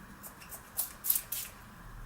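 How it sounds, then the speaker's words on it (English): Iconic London Prep Set Glow setting spray gives three short hissing bursts in quick succession, close and fairly soft, with quiet room background between them and no talking. "I'm just going to spray it, like it said, far from my face"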